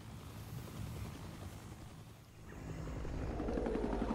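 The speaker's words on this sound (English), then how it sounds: "Fucking chopper left me." A helicopter in Predator: Hunting Grounds rumbles away in the distance, a steady rotor drone under windy noise that swells louder in the second half.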